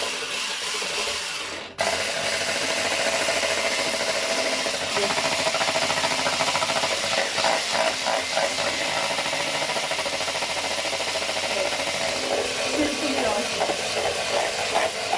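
Waffle batter of sugar, vanilla and oil is whisked with a steady, close mechanical rattle that keeps going without a break after a short pause near the start.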